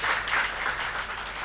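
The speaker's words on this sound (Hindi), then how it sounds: "एक बार जोरदार ताली से" Applause from an audience at a zone meeting, a short burst of many hands clapping together at a steady moderate level, with no voices over it.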